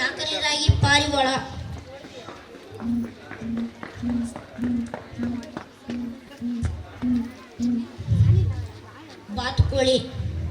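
A child performing at a school talent competition imitates a pigeon with a series of about ten soft, low cooing pulses in a steady rhythm, close and moderate, with speech at the start and near the end.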